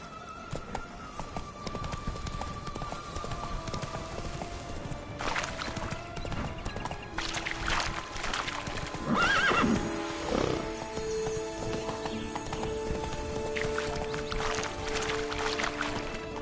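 Roach, a horse in The Witcher 3, gallops with steady clip-clop hoofbeats and lets out loud whinnying neighs midway, against a continuous ambient game backdrop with a faint watery wash.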